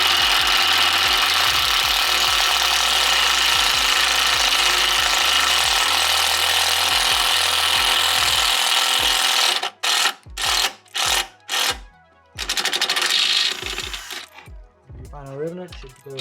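Rivet nut tool installing a rivnut in the engine bay of a 2023 Honda Civic Type R FL5, heard as a loud continuous mechanical whir with quick ratcheting clicks, then several sharp clacks and a brief pause.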